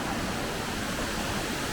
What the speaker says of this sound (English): So there it is, Mino Waterfall